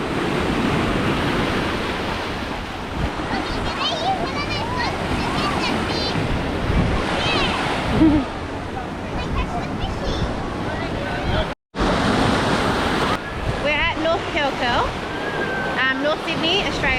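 Ocean surf at North Curl Curl Beach in Sydney on a summer day washes in as a steady broadband roar, with wind buffeting the microphone and occasional faint voices nearby.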